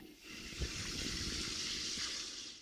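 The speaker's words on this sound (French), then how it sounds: "nous avons une fontaine" Water from a small pond waterfall fountain pours in a soft, even, continuous splashing hiss, heard alone and fairly quiet.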